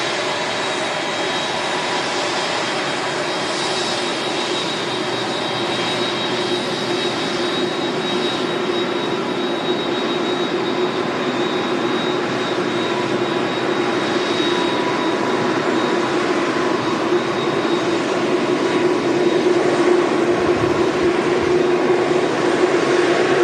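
An Airbus A380 at Manchester Airport produces a continuous, loud jet engine roar with a steady whine, sustained and close without letup.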